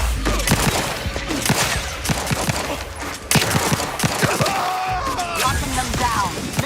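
Rapid gunfire from a firefight in The Outer Worlds 2 video game, dense bursts of shots and impacts running steadily throughout, with occasional talk over the top.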